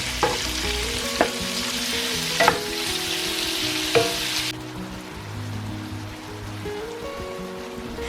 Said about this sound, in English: just brown your meat on both sides for about 5 minutes